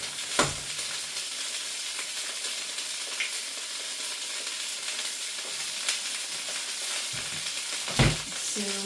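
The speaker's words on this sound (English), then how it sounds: "I'm going to fry the egg in the same pan as the bacon" An egg frying in a pan of leftover bacon fat gives a steady, close sizzle and crackle throughout, with a few brief knocks and clatters from the pan and utensil.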